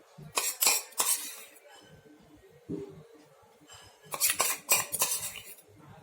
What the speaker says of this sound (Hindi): अब हम कढ़ाई में घी डालेंगे, 2 बड़े चम्मच घी डाल दीजिए।